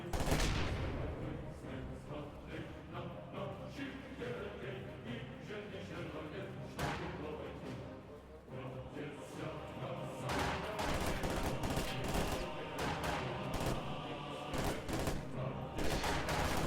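Gunfire in a WWII real-time strategy game with Soviet forces and Volksgrenadiers: dense, continuous rifle and machine-gun fusillades with scattered thuds and slams, busy and loud throughout, under game voice callouts.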